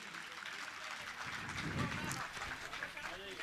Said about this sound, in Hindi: मैं चाहूँगा आप ताली बजाकर इनका सम्मान करें